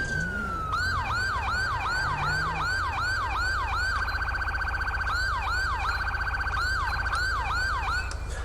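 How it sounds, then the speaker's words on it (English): A police car siren in GTA 5 with the LSPDFR mod wails continuously, loud and close, cycling through repeated rapid yelp sweeps and then a steadier tone before the yelping resumes. "Love that siren."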